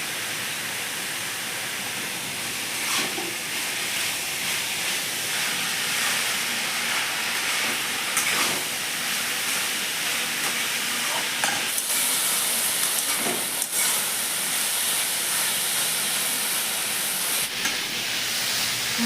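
Banana flower stalks fry with spices in a pan, a continuous close sizzle and hiss with occasional stirring scrapes, no talk over it.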